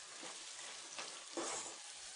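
Potatoes and curry leaves frying in a pan, stirred with a ladle, giving a steady soft sizzle with a few louder scraping swells from the stirring and no voices.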